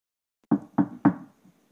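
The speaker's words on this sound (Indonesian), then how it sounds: "Ditambah sekali mengetuk lembut pintu kamarku." Three gentle knocks on a bedroom door, evenly spaced and close, each a soft, short thud, with silence before and after.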